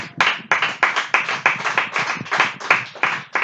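Congregation applause in a church service, rapid loud hand claps repeating in a steady rhythm, close and dense, with no talk over them.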